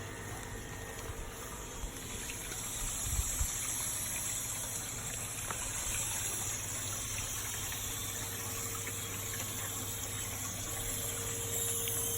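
Water trickles steadily into a koi pond filter through a skimmer lid, a constant close wash over a low pump hum with no talk.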